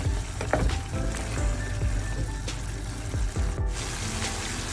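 A carrot and chilli milk curry simmers and sizzles steadily in a pan, a continuous bubbling hiss with occasional soft clicks, close and fairly loud, with no talking.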